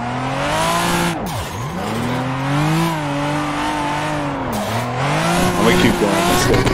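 A car spins out while drifting in Assetto Corsa, with a loud engine whining and swooping in pitch as revs rise and fall, plus tire squeal throughout and a steady close drone.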